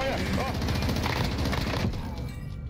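Rapid machine gun fire in an online shooter video game rattles on loudly and continuously, a dense stream of close bursts with voices on team chat underneath.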